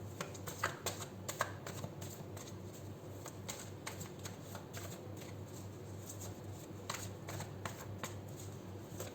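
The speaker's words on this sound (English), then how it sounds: "I'll do 7 shuffles, and thereafter, whatever falls face down, I'll take 5 cards" A deck of tarot cards is shuffled by hand, with repeated riffling and snapping bursts of card flutter running steadily through the whole stretch, fairly close and with no talking.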